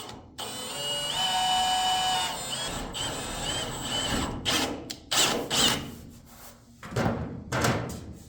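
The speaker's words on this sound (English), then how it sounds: "I didn't drill through the hood" A power drill whines steadily as it bores into the hood of a 1977 Ford Bronco, followed by several short bursts of drilling and clunky metal handling, loud and close.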